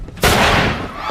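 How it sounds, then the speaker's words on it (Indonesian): A single sharp gunshot bursts out in a tense film scene, a loud wideband crack that rings on and decays slowly across the rest of the moment, with no talk over it. "Murray berusaha menenangkan situasinya, namun ia malah ditembak"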